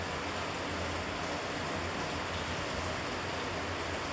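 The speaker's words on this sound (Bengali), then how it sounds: "তখন বাইরে প্রচুর বৃষ্টি হচ্ছে" Heavy rain falls outside as a steady, dense hiss of even, continuous noise, fairly faint and without talk.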